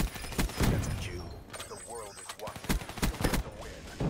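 Rapid automatic gunfire in the Black Ops 3 shooter game crackles in dense, loud bursts, with brief pauses between volleys and a voice talking briefly partway through.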